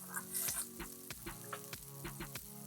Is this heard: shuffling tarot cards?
no